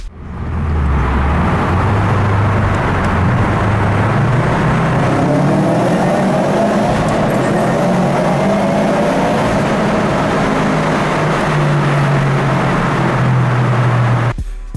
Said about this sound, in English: Who doesn't love roaring their car through tunnels?